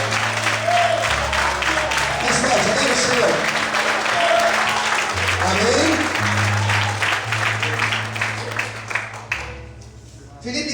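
A church congregation's applause fills the space beneath a pastor's loud amplified speech and sustained music, continuous and dense until a brief drop near the end.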